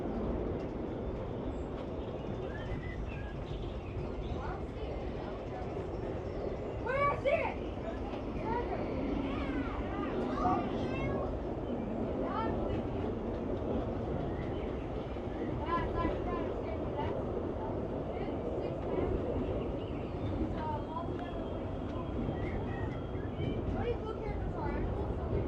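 Big Thunder Mountain mining train rumbling along its track at Disneyland, a continuous low rolling roar with rattles and squeaks, blended with crowd chatter and a voice speaking over it throughout.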